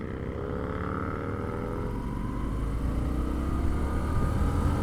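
A 2025 Indian Scout Sixty Classic motorcycle engine pulls hard under throttle, a loud, steady, rising rumble recorded close, with no talk.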